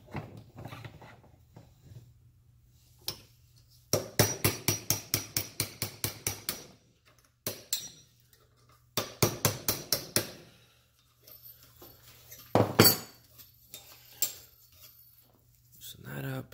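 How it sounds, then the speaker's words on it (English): A hammer strikes the top nut on a KTM/Husqvarna electric rear shock held in a vise, in several rapid bursts of sharp metallic whacks, close and loud, with someone talking in between. "We're going to do this by giving a couple whacks on this top nut counterclockwise."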